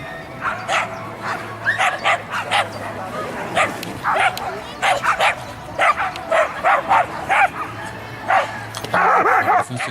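A dog barks repeatedly in quick yappy bursts, close and loud, with short whines between barks against a low background hum.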